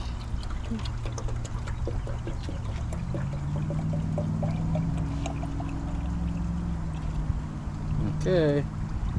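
Fuel pours and gurgles steadily into a Fox body Mustang, with a few faint clinks and a short voice near the end.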